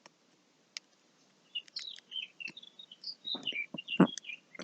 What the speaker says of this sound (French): Ah, attends les petits oiseaux.